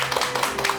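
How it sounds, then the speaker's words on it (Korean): Applause from a studio audience welcoming a guest critic onto a Korean lecture talk show, a brief dense patter of many hands clapping at once, steady and close throughout. "큰 박수 부탁드립니다."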